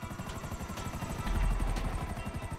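Buzzard helicopter in Grand Theft Auto V Online, its rotor thumping in a fast, steady rhythm up close, swelling slightly louder midway with a low rumbling surge.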